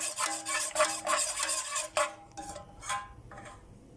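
A utensil scrapes and rubs around the inside of a pot, stirring a homemade kashar cheese mixture with starch, in uneven strokes, close up, with a few scraping bursts near the end.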